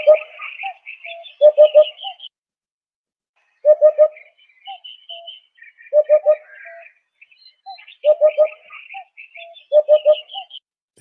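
A played recording of a hoopoe calling in Portugal: clear, repeated groups of three low, hollow hoots, each followed by fainter higher chirps, with quiet gaps between the groups.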